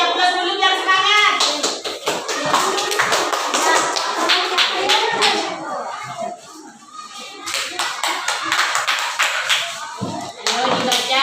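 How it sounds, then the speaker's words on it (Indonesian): A classroom of children claps in rapid, dense bursts, with brief pauses and chatter in between, close and loud. "Ayo kasih aplaus dulu biar semangat."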